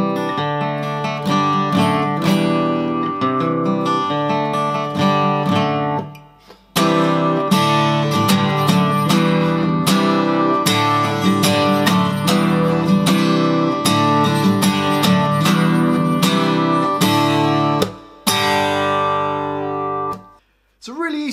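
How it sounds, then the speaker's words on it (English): A guitar plays the Big Bang Theory theme, a fast, bright run of picked notes that continues for most of the stretch, stopping briefly twice before starting again. "today I'm going to teach you how to play the theme from Big Bang Theory"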